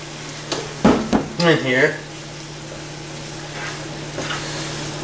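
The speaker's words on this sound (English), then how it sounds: "just stir this around a little bit" Stock and pasta sauce for shrimp Velveeta fettuccine are stirred in a pan over medium heat, giving a few brief scraping and bubbling bursts, then a quieter low simmer; a voice speaks briefly near the start.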